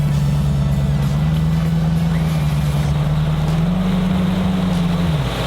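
A 2025 Vexus AVX2085s boat engine roars steadily and loudly, its drone rising in pitch as it accelerates hard from a standstill, with wind and water rushing around it.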